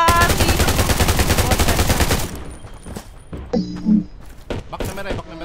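Sniper rifle gunfire in a video game comes as a dense, loud rapid burst of shots that stops abruptly, followed by a few scattered thuds while a player's voice speaks.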